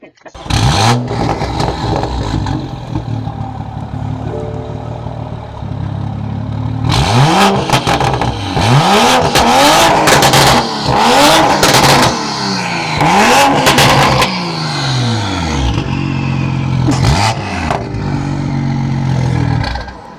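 A Toyota Supra with stock carbon fiber trim at a car show gives a short burst of engine noise and then revs hard several times in a row, loud and close, each rev rising and falling.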